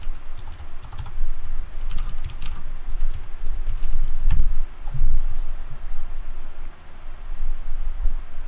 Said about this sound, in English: Let me type up the ugliest.